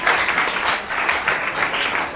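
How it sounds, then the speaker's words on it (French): A church congregation applauding loudly in a dense, steady wash of claps that holds for the whole moment, with no voices rising above it. "Est-ce qu'on peut acclamer très fort le Seigneur Jésus?"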